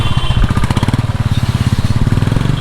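A Bajaj Chetak scooter with worn shocks, brakes and rattles pulls away for a test ride, its small two-stroke engine loud and close, putting out a fast, choppy, throbbing beat that carries on steadily.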